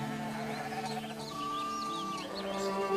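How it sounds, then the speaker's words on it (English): Sheep bleat in the Dawnwalker video game, several wavering calls overlapping across a steady musical backdrop, moderately close and continuous for a few seconds with no talking. "Sheep!"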